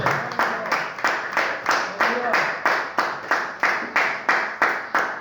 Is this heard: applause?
yes